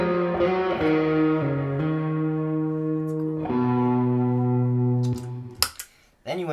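Distorted electric guitar notes played through a fuzz pedal with heavy fuzz, sustained and sliding between pitches, ending with a few short scratchy picked sounds.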